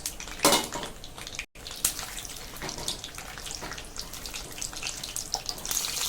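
Peeled pointed gourd (parwal) tossed into hot oil, a steady crackling sizzle with occasional clatters of a utensil against the pan, close and continuous.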